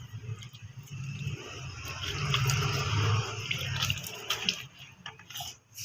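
Water is poured into fishing bait dough and mixed by hand, a close liquid pouring and splashing that swells midway, then breaks into wet squelches and drips.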